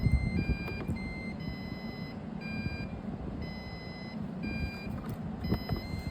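An ECG device sounds its heart-rate beep, a series of short, high electronic tones repeating at a fairly regular pace over a low background hum.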